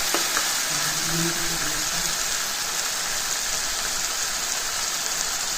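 Colocasia greens and fried prawns sizzle loudly in a hot pan with onions and spices, a steady, close, rain-like crackle that continues evenly throughout.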